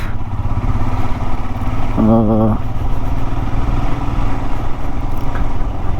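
A motorcycle engine on a night ride drones steadily and close throughout, a continuous loud rumble with a brief tonal burst partway through.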